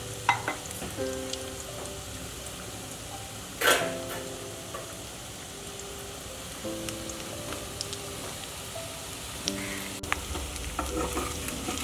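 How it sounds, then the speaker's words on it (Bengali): Taro slices frying in oil give a continuous close sizzle, with occasional stirring scrapes and a louder burst of spattering partway through. "কচুটা ভাজতে একটু টাইম লাগে"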